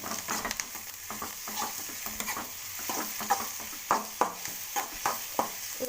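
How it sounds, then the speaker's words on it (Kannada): Green chilli and garlic paste sautés in a pan, with repeated scraping strokes of a spoon over a steady soft sizzle, close and fairly quiet. "ಹಸಿಮೆಣಸಿನ್ಕಾಯಿ ಮತ್ತು ಬೆಳ್ಳುಳ್ಳಿ ಹಾಕಿರುವಂಥ ಪೇಸ್ಟ್ ಹಾಕಿ ಚೆನ್ನಾಗಿ ಬಾಡಿಸ್ಬೇಕು"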